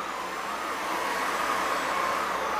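A Eureka Elevate cordless vacuum cleaner runs on low suction while cleaning a rug, giving a steady, close whirring drone that holds even throughout with no talk.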